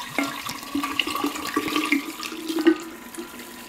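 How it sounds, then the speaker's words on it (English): Milk poured into a container for homemade yogurt, a steady close liquid stream with gurgling and splashing that swells briefly near the end. "Now I'm just going to be pouring some milk into this."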